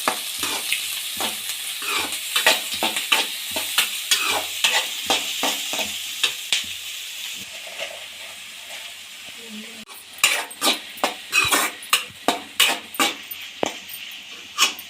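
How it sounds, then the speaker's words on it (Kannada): Four to five onions frying in a pan for aloo matar palya, a steady close sizzle broken by rhythmic scraping stirs of a spatula, with a brief quieter pause before stirring resumes. "ಈರುಳ್ಳಿನ ನೀಟಾಗಿ ಫ್ರೈ ಮಾಡ್ಕೊಳ್ಳಿ"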